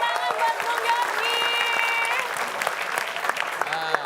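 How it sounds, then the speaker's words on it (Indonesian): A quiz show studio audience breaks into steady, loud applause with scattered cheering, mixed with music tones, filling the whole short stretch. "Tepuk tangan buat Bung Yogi."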